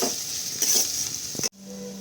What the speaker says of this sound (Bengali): এবার পেঁয়াজটা হালকা নেড়ে চেড়ে নেবো খুব লাল করবো না জাস্ট হালকা একটু ভেজে নেব